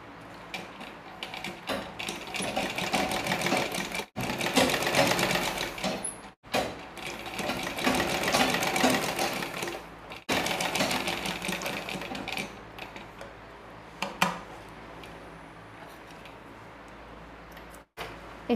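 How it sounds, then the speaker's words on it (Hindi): A sewing machine stitches a rounded, folded hem on hand gloves made from old leggings. It runs in long, steady whirring bursts, each broken off by brief stops. "इसे हम इस तरीके से टू फोल्ड करते हुए यहाँ पर स्टिचिंग"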